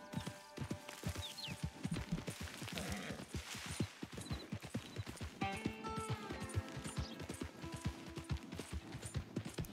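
Rapid, even hoofbeats from a galloping horse in Red Dead Redemption 2 near Blackwater, close and continuous for the whole stretch. Game ambience and tonal effects sit underneath, with no talk over them.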